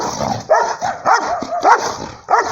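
Boxer dogs in a backyard bark and whimper, four short loud yelping barks spaced about half a second apart with whiny tones between them, close by and with no talk.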